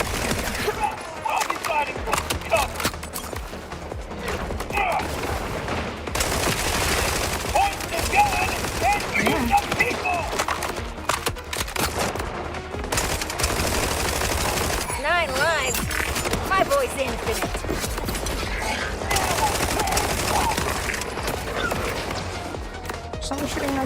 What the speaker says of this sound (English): Someone shooting us from...